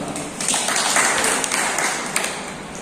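Brief clapping from an audience at an outdoor tree-planting event hosted by army officers, a steady wash of hand claps at moderate level, with a few sharper claps standing out.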